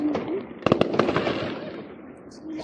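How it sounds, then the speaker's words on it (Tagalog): Fireworks bursting in Dubai, a handful of sharp pops clustered together amid a crowd's excited voices and chatter. "Yay! Fireworks!"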